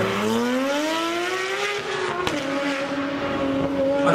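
Porsche 911 Turbo engine accelerating, a steady rising drone with a faint whistling turbo note, heard from inside or near the car at moderate level.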